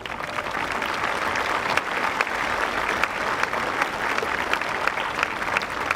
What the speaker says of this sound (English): let's give your teachers a massive round of applause